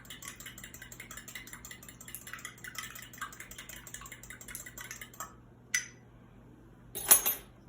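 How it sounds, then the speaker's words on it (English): A whisk or fork clicks rapidly against a bowl while milk and egg are beaten together, a fast, light, steady tapping that stops, followed by a couple of louder clinks. "I'm going to mix the milk and egg together before we put it in the dry ingredients"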